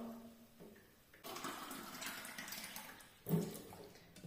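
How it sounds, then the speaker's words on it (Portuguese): Water poured into a pot for a dried-corn pamonha recipe cooked in a cuscuzeira, a steady splashing rush that swells, runs for a few seconds, then surges again briefly near the end. "Eu vou estar colocando a água aqui"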